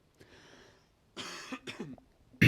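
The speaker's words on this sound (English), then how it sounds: "Oh, I'm coughing so much." A man coughs indoors, starting with a faint breathy rasp, then two harsh, close coughs and a throat-clearing, followed by a sharp final burst.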